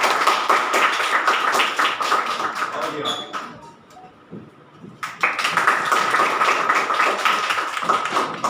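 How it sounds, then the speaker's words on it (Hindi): An audience at a school workshop claps to welcome the winners, loud and close. The clapping breaks off briefly in the middle, with a few words spoken, then resumes just as strongly. "आइए पहले आप तालियां हो जाए जी"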